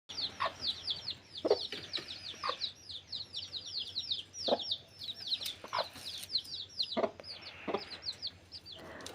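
Chicks peep and cheep in rapid, high chirps, a busy little flock close by, with occasional soft clucks and light tapping sounds.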